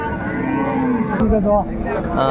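A close Sahiwal cow lets out a short, low moo while voices murmur in the background at a cattle market in Raniganj.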